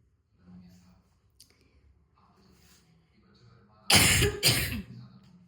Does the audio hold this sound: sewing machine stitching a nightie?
no